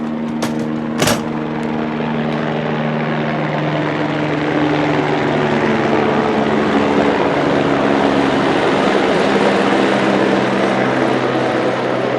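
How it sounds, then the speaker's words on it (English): A helicopter buzzing overhead outdoors near a street, a loud continuous rotor and engine drone that holds steady throughout, with a brief sharp knock near the start. "Helicopter buzz"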